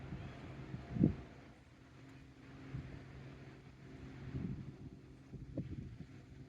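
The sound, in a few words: boat on a lake in the background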